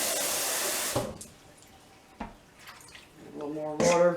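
Tap water pours into a pot of pea soup in a kitchen, a steady rushing stream for about a second before cutting off, followed by faint clinks, a short knock and a brief voiced sound near the end.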